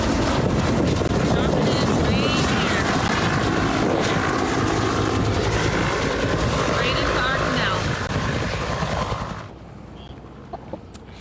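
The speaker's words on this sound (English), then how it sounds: "that chopper was actually grabbing water from the canal right by their home" A firefighting helicopter scoops water from a canal beside homes during a Southwest Florida wildfire, giving a loud, steady rotor roar mixed with wind buffeting, then cutting off abruptly near the end.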